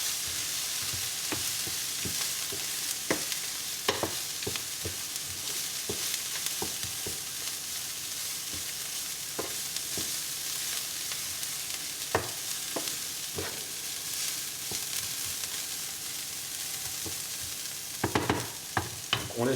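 Shrimp fry in a hot pan for Cantonese fried rice, a constant bright sizzle broken by frequent scraping clicks of a utensil stirring, with louder clatter near the end.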